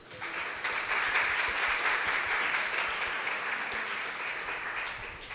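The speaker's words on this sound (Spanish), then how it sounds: "Un aplauso para él." A church congregation at mass applauds in a steady, moderately loud patter of many hands that swells and holds for several seconds, heard alone in a reverberant hall.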